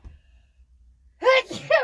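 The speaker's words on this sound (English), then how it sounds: "Excuse me, I gotta sneeze." After a near-silent pause, one person sneezes sharply up close, followed by a quick breathy catch of voice.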